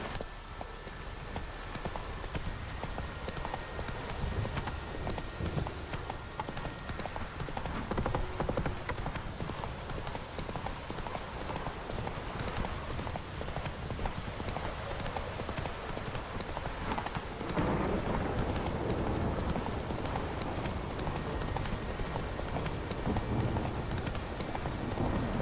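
A horse gallops in The Witcher 3, with a rapid, continuous clip-clop of hooves on the ground that stays close and steady throughout.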